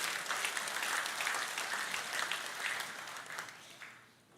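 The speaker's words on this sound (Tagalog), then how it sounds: "isa pa pong palakpak para sa Diyos" A church congregation applauds together in a sustained, dense wash of clapping that fades slightly toward the end, with no speech over it.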